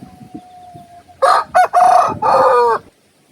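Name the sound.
rooster crowing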